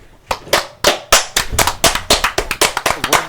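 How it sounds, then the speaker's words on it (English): Hands clapping nearby, starting slow and uneven, then speeding into a steady, quicker rhythm of sharp claps. "I don't know why I'm clapping, but okay."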